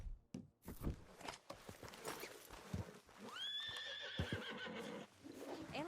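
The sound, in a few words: horse whinnying in Red Dead Redemption 2 video game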